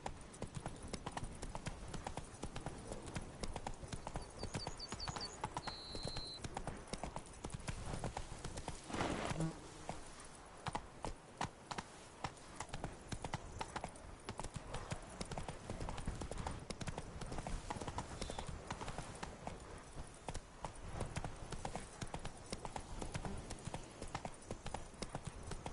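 Steady clip-clop of horse hooves from a horse ridden in Witcher 3: Blood and Wine, a continuous trotting rhythm under game ambience, with one sharper knock partway through.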